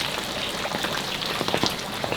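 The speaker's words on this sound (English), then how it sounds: "it is still pouring with rain" Heavy rain pours down steadily in the Mount Fuji area, a dense continuous hiss with scattered patters of drops, close and even throughout.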